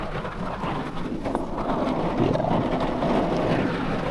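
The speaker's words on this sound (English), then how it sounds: "It's raining pretty hard, actually." Heavy rain pours down outdoors at a bass-fishing spot after a thunderstorm, a steady, dense hiss and rumble that swells slightly louder partway through, with no talking.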